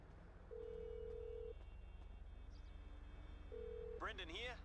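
A phone ringing during a call to a yacht captain in Grand Theft Auto Online, two steady electronic ring tones separated by a pause, followed by a voice speaking over a low game background.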